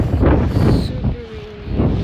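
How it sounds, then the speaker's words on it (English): Strong gusting wind buffets a moored boat at night, a loud, steady roar with rumbling microphone buffeting and faint rustle throughout. "Super windy and moving a lot."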